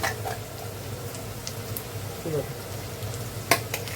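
A ground onion and coconut masala paste fries in a pan for a non-veg Sunday meal, giving a faint, continuous low sizzle. A couple of soft clicks and one sharper tap come through near the end.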